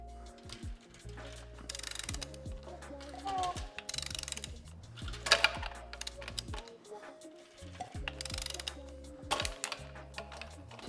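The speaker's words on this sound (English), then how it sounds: "any rattling or any weird noises you hear is most definitely just the chain" Toyota GR Supra B58 engine turned over by hand after a crash, giving faint mechanical clicks, ratcheting and light rattles from the timing chain in irregular bursts.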